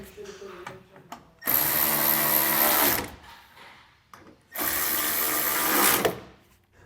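A power tool drives two Torx screws back into a reinstalled taillight during trailer wiring work: two loud, close whirring runs of about one and a half seconds each, separated by a short pause with brief softer sounds.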